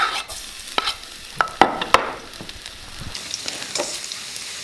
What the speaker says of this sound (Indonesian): ini sepertinya minyaknya sudah panas. Nah, sekarang kita sudah bisa masukin bawang putih